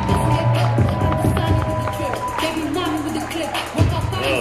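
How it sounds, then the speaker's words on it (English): An audience at a women's bodybuilding pro contest claps and cheers in a dense, continuous roar, with a loud voice talking over the crowd throughout. "Thunderous applause from the audience."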